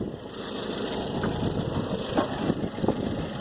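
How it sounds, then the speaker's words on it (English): A warm 2.5-litre car engine idles steadily with a faint, regular tapping from a clogged lifter ticking through the low rumble, heard alone without talk. "when the car heats up, it causes a lifter to start tapping"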